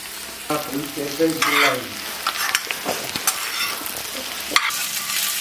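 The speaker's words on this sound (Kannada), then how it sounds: "ಇವಾಗ ಇದಕ್ಕೆ ಬೆಂಡೆಕಾಯಿ ಹಾಕೊಂಡಿರೋಣ" Okra tossed into a hot pan of onion, green chili and curry leaves, with a steady frying sizzle and intermittent stirring scrapes and clatters over several seconds.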